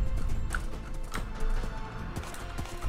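Rhythmic clopping of horse hooves trotting along in a video game, moderately close, with a faint background hum.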